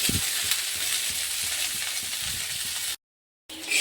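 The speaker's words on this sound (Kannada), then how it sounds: "ಸ್ವಲ್ಪ ಎಣ್ಣೆನ ಹಾಕ್ಕೊಂಡಿದ್ದೀನಿ ಹುರಿಯೋದಕ್ಕಂತ. ಇವಾಗ ಇದನ್ನು ಚೆನ್ನಾಗಿ ಹುರಿದು ತೊಗೊಳಂದ್ರಿ." Cabbage frying in oil in a pan sizzles steadily and loudly with a constant hiss and faint stirring scrapes, cutting out briefly before the sizzle returns.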